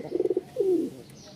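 Pigeons cooing close by: a quick run of four or five short pulsed coos, then one longer drawn-out coo, in a quiet indoor space.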